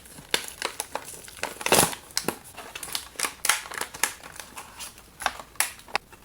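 Mattel WWE Superstars Kevin Nash wrestling figure's plastic blister packaging being opened, a run of close, irregular crackling crunches and crinkles with a louder tearing burst early on.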